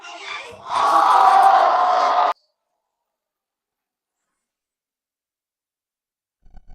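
Audience applause at a company meeting, a burst of clapping and crowd noise lasting about two seconds near the start, then silence.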